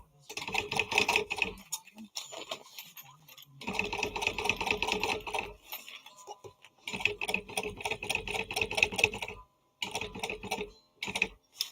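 Sewing machine tacking a gusset to a zipper on a bag, heard close in four rapid bursts of rattling needle strokes separated by short pauses, with no talk.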